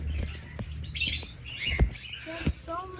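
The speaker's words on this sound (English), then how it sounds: "They're pretty birds." Caged finches at a bird farm chirp and squawk nearby in quick, scattered bursts, with faint rustling and knocks underneath.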